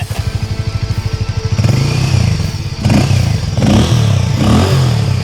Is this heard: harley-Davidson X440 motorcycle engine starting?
yes